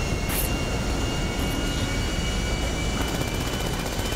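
A fixed-wing airplane takes off in the video game GTA V, producing a loud, steady engine roar with broadband rushing noise that holds constant throughout, with no voices over it.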